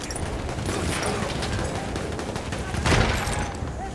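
Enemy machine gun fire in a first-person war video game, a steady dense rattle of distant automatic bursts with a louder swell near the end, no talking.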